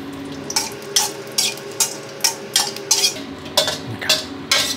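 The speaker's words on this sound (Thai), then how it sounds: "ใช้ไฟกลางค่อยๆอ่อนนะครับตามด้วยพริกแห้งครับทอดให้หอมกรอบแบบที่เราต้องการได้เลยนะครับ" Dried chilies fry in oil in a wok over medium-low heat, a steady soft sizzle broken by regular bright scrapes and stirs of a utensil against the pan, about one every half second, with no talking.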